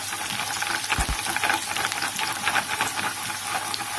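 Oil sizzles and crackles steadily as garlic and cumin fry in a pan over a medium flame, with a few brief clinks of stirring partway through. No voices.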